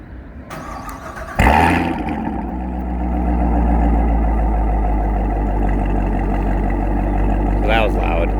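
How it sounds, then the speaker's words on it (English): A loud 2019 Corvette Stingray V8 with a straight-piped Corsa Extreme header-back exhaust cranks and fires up on a warm start with a sharp burst, then settles into a deep, rumbling, unmuffled idle, close by. "I'm gonna start it up here."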